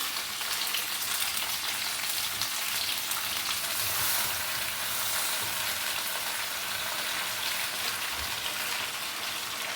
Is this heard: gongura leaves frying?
yes